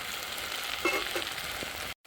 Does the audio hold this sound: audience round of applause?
no